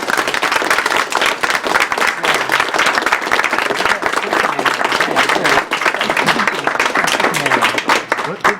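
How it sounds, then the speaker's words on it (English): A crowd at a live speedrunning charity marathon applauds loudly and steadily, dense clapping continuing for several seconds with a few voices mixed in. "I think we need a round of applause for everyone who's donated so far"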